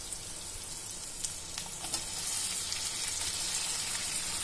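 Mutton pieces sizzle and fry steadily in hot masala for a wheat-rava biryani, a continuous close crackle with occasional stirring that grows slightly louder partway through.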